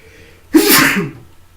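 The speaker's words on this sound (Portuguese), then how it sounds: "peraí, vou espirrar" A single loud, close sneeze bursts out sharply and trails off quickly, with quiet before and after.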